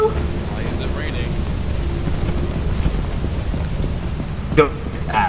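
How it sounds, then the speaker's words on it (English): Rain and thunder inside a video game make a steady hiss with a low rumble underneath, and a few brief sharper bursts come near the end. "Why is it raining?"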